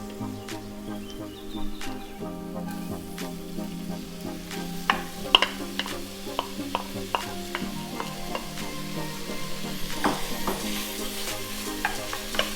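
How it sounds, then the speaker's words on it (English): Garlic and onions sizzle and fry steadily in hot oil in a pan, with crackling pops and scraping stirs, close and continuous. "now that our garlic is starting to sizzle, what I want to do is put in the onions"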